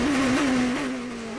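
A 2006 GP2 Series race car at speed in Spain, engine screaming in a steady high-pitched note with brief rev rises at gear changes, loud and close from the onboard position.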